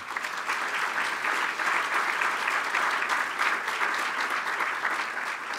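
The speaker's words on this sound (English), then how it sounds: "Let's give Kurt another round of applause" An audience at a State of the City address in Torrance, California, applauds Kurt with steady, dense clapping that holds at an even loudness throughout, no voices standing out.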